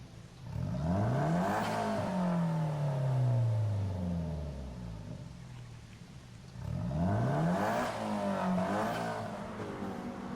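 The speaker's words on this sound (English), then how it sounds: "Take a good look at this nice engine sound" Race car engine in Gran Turismo Sport, revving up through rising gear sweeps, holding a loud droning whine, easing off, then climbing again in a second surge, continuous and close with no talk.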